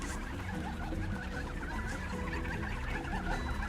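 Turkeys gobble and cluck in the video game King's Quest, a busy run of close, overlapping bird calls with no talk over them.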